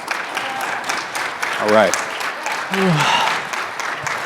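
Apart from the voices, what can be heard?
audience applause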